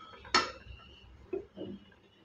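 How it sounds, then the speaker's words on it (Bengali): A rice cooker lid is lifted off with a sharp metallic clink while cooking khichuri, followed by softer knocks as a spatula is set in place, in a quiet kitchen. "এই সময় আমি ঢাকনাটা তুলে এরকম একটা খুন্তি দিয়ে রাখবো।"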